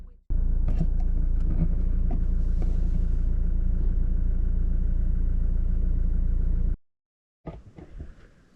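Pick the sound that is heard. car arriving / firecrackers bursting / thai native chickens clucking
car arriving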